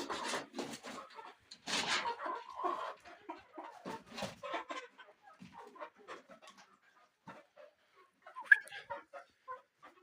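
Chickens cluck and squawk close by in scattered bursts, some louder calls standing out among softer murmurs and rustling.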